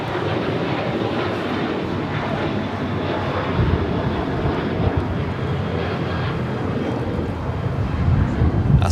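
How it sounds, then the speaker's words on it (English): A Qatar Airways Airbus A350-1000 jet airliner bound for Doha at LAX gives off a loud, steady jet roar that swells slightly toward the end, with no voices. "Qatar Airways flight 740 heading back to Doha at A350-1000."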